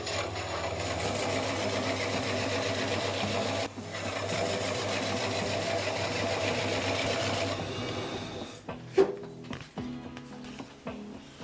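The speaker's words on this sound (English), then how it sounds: "After cutting the salpa, I proceed to skive the edges to reduce the bulkiness when stitching." Salpa stiffener is skived along its edges while making an Ankara print handbag. A continuous close rasping scrape lasts about seven seconds, then drops away to quieter, scattered handling knocks.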